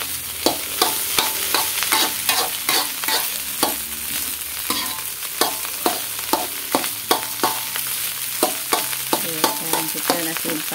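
Egg fried rice, nasi goreng, stir-fried in a pan: a steady sizzle runs throughout under quick, regular scraping strokes of the spatula, close and fairly loud, with no one talking.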